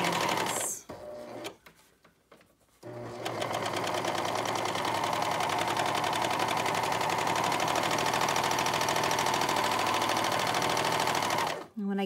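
An overlocker sewing machine threaded with four threads and woolly nylon stitches along a flannel towel edge, a steady rapid mechanical whir running for several seconds after a few brief stops and starts.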